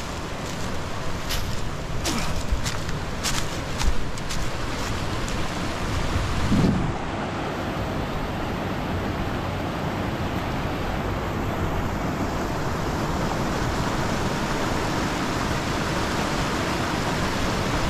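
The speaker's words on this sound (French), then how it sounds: "Et voilà le torrent qui coule juste en bas de mon terrain." A mountain torrent on a hillside plot in Japan rushes steadily below, a loud, continuous broadband roar of flowing water that stays constant from start to finish, with a few brief knocks and handling sounds early on.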